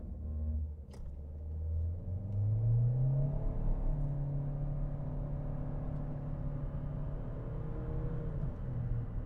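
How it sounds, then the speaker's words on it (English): A 2025 Chevrolet Equinox LT SUV engine revs up and accelerates, its pitch rising steadily, then holds a steady drone with road rumble throughout. "test out the acceleration on the Equinox just one more time"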